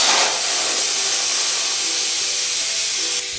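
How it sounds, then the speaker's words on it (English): A strong, steady hiss of pressurized gas rushing out continuously, loud and close, cutting off abruptly near the end. "Inflate the balloon until its surface is very firm"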